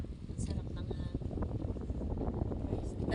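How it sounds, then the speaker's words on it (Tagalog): Strong wind buffets a seawall at night, a steady broadband rush with gusty swells that carries through the whole stretch, with people talking faintly beneath it. "lakas ng hangin dito"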